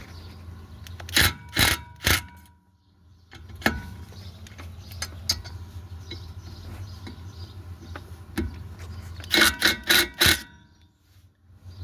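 Brake rotor set screws are pulled from the rear hub of a 2008 Honda Odyssey: two clusters of sharp, buzzing tool bursts, near and loud, with quieter clicks and shop noise in between.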